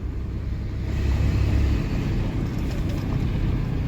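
A 2006 Dodge Ram 3500 with a Cummins diesel and G56 manual gearbox pulls away, a steady low engine rumble with wind buffeting the microphone and no speech.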